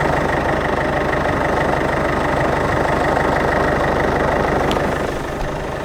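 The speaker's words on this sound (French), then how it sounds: "Il est mort le moteur ou pas?" A car engine idles in a steady, close, loud low rumble with an even rhythmic pulse and a faint knocking tone, easing slightly quieter near the end.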